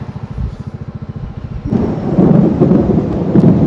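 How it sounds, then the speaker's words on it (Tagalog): Heavy rain arrives at a campsite at Coto Mines in Masinloc, Zambales, with thunder rumbling; a pulsing low rumble gives way midway to a loud, dense, steady downpour that continues to the end. "So lakas na ng kulog. Simula na yung ulan."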